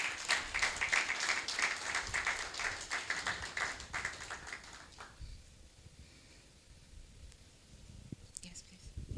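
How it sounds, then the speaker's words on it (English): Audience applause at a sustainability program event, brisk clapping from a room of people for about five seconds, then dying away into quiet with a few scattered claps and light handling noise. "A round of applause for him, please."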